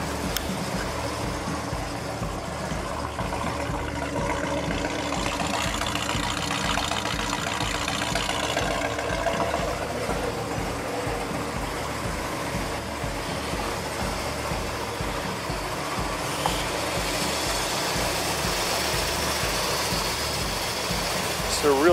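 A 1970 Plymouth Road Runner Convertible idles steadily with a throbbing low rumble, swelling into revs partway through as a voice talks faintly underneath.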